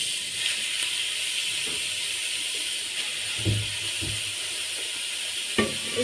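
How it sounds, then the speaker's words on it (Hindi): Grated carrots for gajar halwa sit in a hot pan, giving a steady soft sizzling hiss with a few faint thumps and scrapes as they are added and moved about. "अब हम इसके अंदर गाजरें ऐड करेंगे जो हमने आगे आपको दिखाई थी।"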